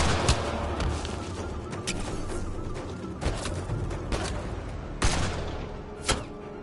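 Sci-fi gunfire rattles through a firefight in Mass Effect: Andromeda, steady bursts of shots with several sharper, louder cracks standing out at irregular moments, no voices over it.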